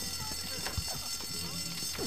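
A fire alarm goes off in the school video game Bully, a steady electronic ringing tone that runs the whole time beneath loud voices talking and shouting over it.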